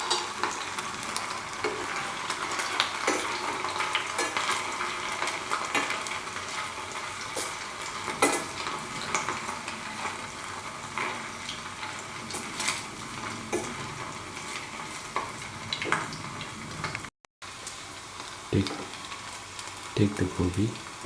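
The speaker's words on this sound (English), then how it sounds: "fry by turning it from side to side" Cauliflower gobi manchurian pieces frying in a pan, a continuous close sizzle with frequent scraping and clinking as the pieces are turned over, steady and moderately loud throughout.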